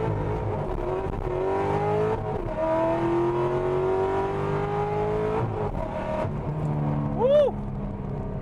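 A straight-piped, cammed C6 Corvette accelerates hard, its loud, close V8 rising in pitch through the revs, with a brief drop between pulls and a sharp whoop near the end.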